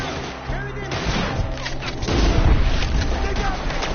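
Gunfire and booms in the video game Red Dead Redemption 2 during a shootout, volleys of shots growing heavier toward the end, mixed with shouting voices.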